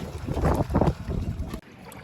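An inflatable dinghy speeds across the water at Wayag in light wind and slight swell, producing a close, loud rush of water and wind buffeting that cuts off abruptly near the end.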